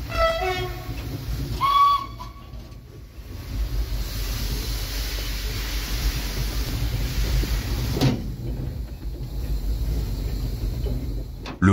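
Steam locomotive No. 15 of the Baie de Somme railway being moved onto a small turntable: a loud, continuous low rumble and hiss, with a brief high squeal early on and a clank around the middle.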